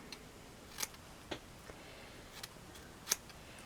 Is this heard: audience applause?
no